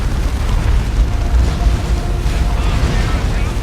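An orbital strike in the video game Dawn of War II: Retribution erupts as a loud, sustained rumble of overlapping blasts and booms throughout.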